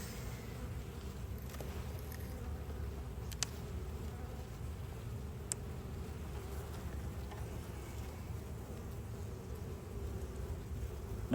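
Dense, steady buzzing of many honey bees close by in an open hive during an inspection, a continuous low drone with a couple of faint clicks and no talking.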